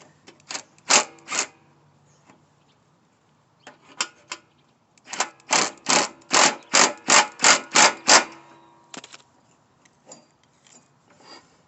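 A nut being tightened on a Troy-Bilt Pony 42-inch riding lawn mower with a ratchet, making loud, close clicking bursts in short groups, then a long run of rapid clicks, with quiet gaps between.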